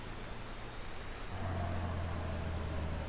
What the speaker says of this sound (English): This is only, I believe, maybe the first or second time I've seen rain up this area.